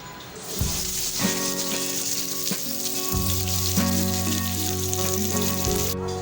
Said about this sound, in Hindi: मैंने यहाँ पे एक बड़ी प्याज जिसे कट करके स्लाइस में रखा हुआ है, इसको जो है इसमें ऐड कर देती हूँ और इसको करूँगी मैं ब्राउन